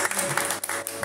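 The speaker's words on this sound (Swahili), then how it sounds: "Mpigini mimi makofi basi." An audience at a church doctrine teaching session applauding, a short burst of dense close clapping with a voice faintly underneath.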